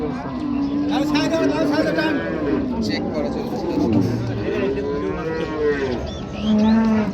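A dairy cow moos loudly and repeatedly at a cattle market in Raniganj, Dinajpur, Bangladesh, with people talking and chattering close by throughout.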